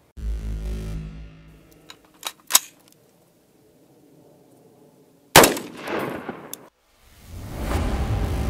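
6.5mm Grendel rifle with a 12-inch upper fires 123-grain Hornady SST rounds into ballistic gelatin at an outdoor range: a few sharp clicks and bangs, then one loud close shot with a decaying echo.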